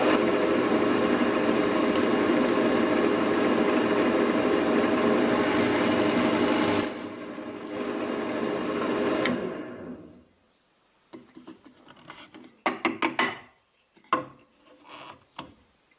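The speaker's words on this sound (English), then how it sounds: "And I drill the next hole aligned with the first one." A drill press whirs loudly and steadily for several seconds drilling a wooden rod, then winds down into silence, followed by scattered clicks and knocks of handling.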